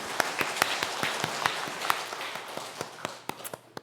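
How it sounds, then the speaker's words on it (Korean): A congregation applauding at a Sunday church worship service, with sharp, uneven claps in a steady stream that fades somewhat toward the end. "우리 생명의 신 되신 하나님께 영광의 박수 올려드립니다."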